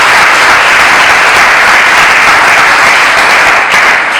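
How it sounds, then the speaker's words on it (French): Guests applaud loudly at a Congolese couple's wedding ceremony, a close, dense and unbroken wash of clapping with no talk over it. "On va applaudir pour cela."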